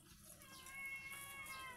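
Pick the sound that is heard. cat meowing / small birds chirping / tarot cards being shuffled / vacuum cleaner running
cat meowing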